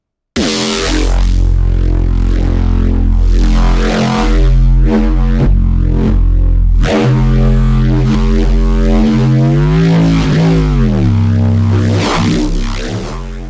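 A loud, heavy neuro bass synthesized in Kilohearts Phase Plant with sine compression, growling, shifting harmonics and wobbling pitch, playing in rhythmic phrases with brief gaps, alone with no voices.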